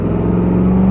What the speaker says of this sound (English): Paul got lined up for the first attempt at the trailer pull